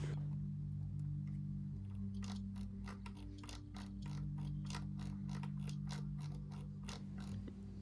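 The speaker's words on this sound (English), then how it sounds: "And then you screw it on with your screwdriver, and then that's it." Screwdriver tightening a part during engine assembly in the video game My Summer Car, a quick series of about a dozen evenly spaced ratcheting clicks over a steady low mechanical hum, with no talking.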